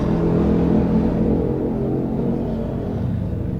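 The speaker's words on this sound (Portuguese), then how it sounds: "Vai passar a moto, peraí." A motorcycle passes by outside, a loud, steady engine rumble that holds throughout and eases off slightly toward the end, with no talk over it.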